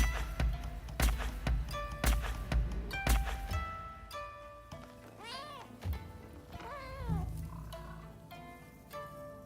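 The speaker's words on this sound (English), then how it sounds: "Look at us, just chilling with cats." Cats in a video game let out several rising and falling meows over a soft background, with sharp percussive hits early on and a voice talking briefly.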